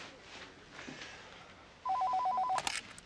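A phone rings in a room during a fancy gala dinner, a brief electronic warble heard once near the end, moderately loud over quiet background.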